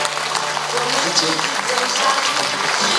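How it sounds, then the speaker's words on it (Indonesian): Audience applause at a volunteer training event at a Tzu Chi center, a steady wash of many hands clapping together for a few seconds with no pause. "Ayo kita berikan tepuk tangan."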